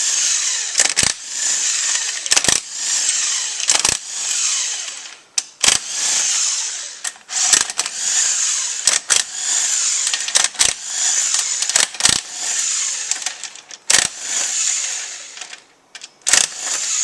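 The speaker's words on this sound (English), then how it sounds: "Then we remove the rest of the valve body bolts." Valve body bolts being removed from a Toyota Tundra AB60 automatic transmission, likely with a power tool: a steady high whirring runs throughout, broken by repeated sharp clicks and knocks, close up with no talking.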